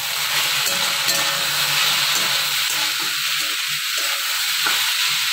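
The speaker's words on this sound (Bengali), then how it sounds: "কালো জিরে ফোড়ন দিয়ে ভেন্ডিটা ভাজা করছি একটু" Okra frying with black cumin seeds in a home kitchen, a steady, even sizzle and hiss of hot oil running throughout with no talking.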